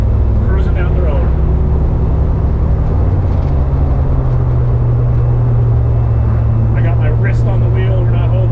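Steady low drone of a turbocharged Ford Fairmont cruising at about 50 mph with the exhaust cutout closed, routed through a 2.5-inch quiet exhaust, heard from inside with front windows partly open and a voice speaking over the engine and road noise.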